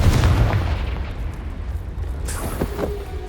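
The Confringo blasting spell detonates in Hogwarts Legacy with a deep booming explosion right at the start, then a rumbling decay, a fainter second pop and a few lighter effects, loud and close.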